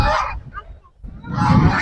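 White ducks call loudly by a riverbank, two bursts of harsh honking quacks close by separated by a brief quiet gap.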